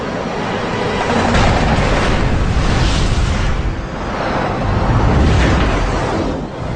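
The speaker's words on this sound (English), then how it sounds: "Jabara opens fire. 50 caliber rounds impact the MiG." Sustained roaring bursts of .50 caliber machine-gun rounds striking a MiG jet fighter in a Korean War dogfight, loud and continuous with swelling peaks of impact noise and no talking.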